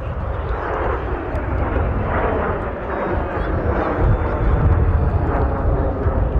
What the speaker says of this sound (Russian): На самолетах Л-39 российские асы готовы показать настоящий пилотаж.